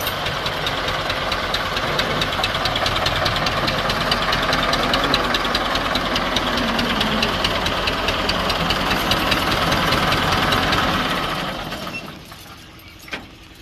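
A 1982 Massey Ferguson MF 265 tractor engine idles with a loud, close, steady knocking rumble, then dies away as it is shut off near the end, leaving a faint click.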